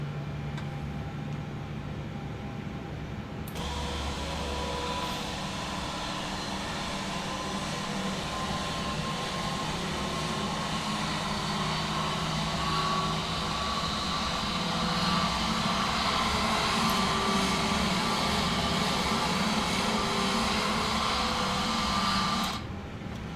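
Airbus A321LR with LEAP-1A engines in Flight Simulator 2024 spooling up at start, a steady broadband roar and rising whine from the engine that holds loud and even throughout, with no talk over it.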